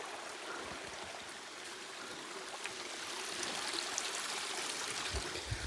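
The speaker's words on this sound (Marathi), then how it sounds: "तर बघा, एक वॉटर क्रॉसिंग आपल्याला भेटलेली आहे." A shallow stream flows across a trail crossing near the Kondhane Buddhist caves in Karjat, giving a steady, close rushing wash of water with no voices.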